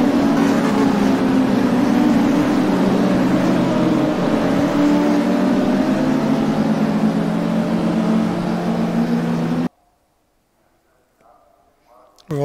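Porsche Cup race cars in the rFactor sim racing game drone loudly and steadily with engines held flat out and rising pitch, then cut to near silence before a brief burst returns.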